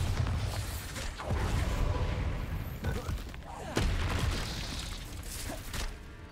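Bombarda spell blasts in Hogwarts Legacy combat, sharp booming impacts landing at several moments over dense game noise, with a particularly loud burst near the middle.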